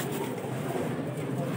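Highflyer pigeons offered for sale in Lahore, cooing and calling steadily close by over a dense, continuous bed of flock noise and background murmur.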